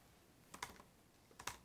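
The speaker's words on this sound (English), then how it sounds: "I'm going to go ahead and type in my" Faint, quick keystrokes on a computer keyboard come in two brief clusters of clicks separated by a short pause, in a quiet room.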